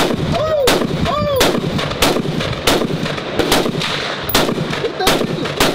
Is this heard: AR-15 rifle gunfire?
yes